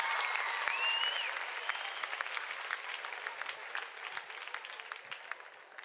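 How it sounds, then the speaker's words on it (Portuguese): A large congregation of about a thousand people applauds a woman at a church sermon, a dense, steady wash of clapping that begins full and gradually fades over six seconds, with a brief high whistle near the start. "Uma salva de palmas para essa moça"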